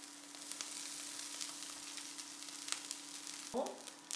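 Rice stir-frying with pepper and salt in a pan, giving a steady, soft hiss of sizzling throughout and a brief scrape or clatter near the end, with no talking.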